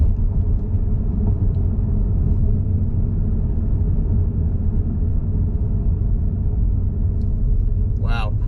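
A 2021 Mazda 3 turbo accelerates hard up a street, heard from inside as a loud, steady low rumble that holds throughout.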